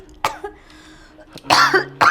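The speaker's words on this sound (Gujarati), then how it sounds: "અરે બેટા, બહુ ખાંસી છે," A person coughs several times up close, with short harsh bursts separated by pauses and a final pair of strong coughs.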